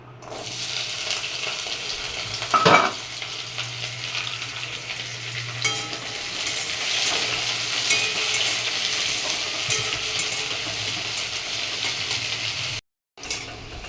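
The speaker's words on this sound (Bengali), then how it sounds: "উচ্ছেগুলো লাল লাল করে ভাজা হয়ে গেছে" Bitter gourd pieces fry in hot mustard oil in a pan, a loud continuous sizzle with a sharp clatter near the start and a brief cut near the end, with no voices.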